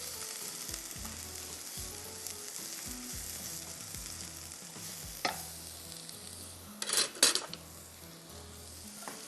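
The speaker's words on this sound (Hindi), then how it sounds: "प्याज को बहुत ज़्यादा सौगी नहीं करना है।" Onions sauté in a pan for chicken skewers, a soft steady sizzle with a low hum underneath and a few brief clinks and scrapes of a utensil near the end, no talking.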